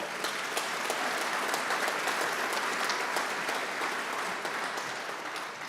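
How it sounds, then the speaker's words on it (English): Steady applause from a crowd at a golf awards banquet, dense clapping that holds at an even level throughout with no voices over it. "One more round of applause for all of them."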